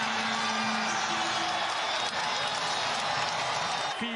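Dense, loud crowd roar with cheering and whoops fills a basketball game at Haas Pavilion, continuous throughout, with applause mixed in and a brief swell near the end.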